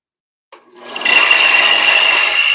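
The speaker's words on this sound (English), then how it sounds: "All right, it's gonna get loud. The sander." A power sander spins up after a short silence, rising over about half a second into a loud, steady whirring buzz that holds to the end.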